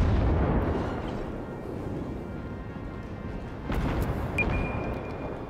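A torpedo strikes a ship in the naval combat game World of Warships, giving a loud, sustained rumbling explosion that swells again near the end, with no talking.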